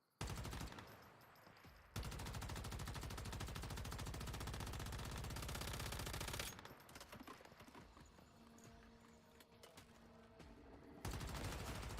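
Light machine gun fire in Once Human, long sustained automatic bursts with rapid, even rhythm, broken by a quieter pause in the middle before the firing resumes loudly.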